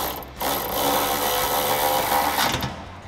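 A 3/8 ratchet with a 16 mm socket snugging nuts while fitting side armor with step pads to a 2021-2023 Ford Bronco, a dense rapid clicking that runs continuously for about two seconds, close and fairly loud.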